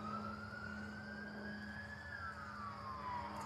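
A fire truck siren wails from a distance beyond a park, its rising and falling tone sustained over a steady low traffic hum, faint and without talk.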